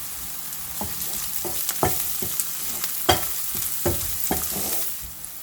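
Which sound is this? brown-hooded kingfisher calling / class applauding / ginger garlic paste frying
ginger garlic paste frying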